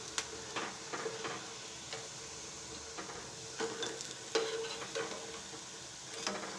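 Singhara flour pakoras frying in hot oil, a soft, steady sizzle broken by small ticks and clinks of a utensil against the pan, fairly quiet and close.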